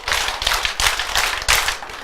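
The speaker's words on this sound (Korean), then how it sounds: "자, 박수 5번 시작." A congregation at a church revival meeting claps together in five loud, evenly spaced bursts, each a crisp wash of many hands striking at once, filling the hall with no voices over it.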